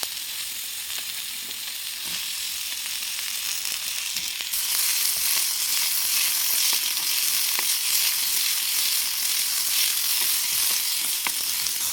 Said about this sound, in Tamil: இப்போ நான் ஒரு கடாய் போட்டுட்டேன். இதில் நான் அந்த ஜுக்கினியை பாருங்கள் சின்னதாக கட் பண்ணிட்டு தான் அது சேர்த்துறேன்.